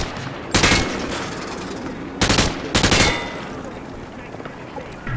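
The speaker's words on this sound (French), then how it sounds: "Il a arrosé tout le champ de tir." Machine gun fire on a firing range in Call of Duty MW2, three loud bursts of rapid automatic shots separated by quieter gaps with faint background sound between.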